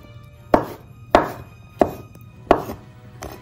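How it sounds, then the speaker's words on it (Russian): A knife slices marinated button mushrooms on a board, five crisp, evenly spaced cuts about half a second apart, close and clear with no talk. "у меня здесь одна большая баночка маринованных шампиньонов, не нарезанных, я их нарезаю"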